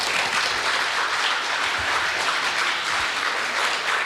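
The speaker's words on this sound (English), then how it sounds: "big applause for them" A dense, steady wash of audience applause greets the sponsors of a startup pitch competition, filling the room evenly for several seconds with no one speaking over it.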